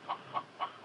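A chicken clucks during a prank call with four evenly spaced short clucks in quick rhythmic succession, moderately loud and heard on their own without talk.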